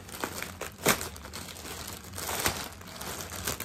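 Close crinkling and rustling of wrapping as an H&M gift package is opened, a few louder crackles among softer handling noises.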